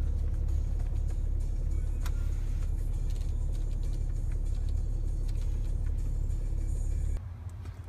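BMW X5 engine running at a steady, fairly loud idle after startup, with a continuous low rumble that drops in level and changes character near the end.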